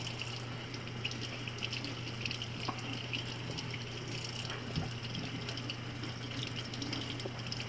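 Tap water runs steadily into a kitchen sink while potatoes are being washed, a continuous faint splashing stream with small occasional knocks and no talking.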